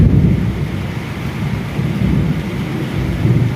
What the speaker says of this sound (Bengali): আজকে সোমবার সন্ধেবেলায় বহু আকাঙ্ক্ষিত বৃষ্টি এলো।